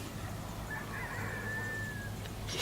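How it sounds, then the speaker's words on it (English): A single rooster crowing in the distance on an early morning, one drawn-out call over a steady low hum of background noise. "because you hear the roosters"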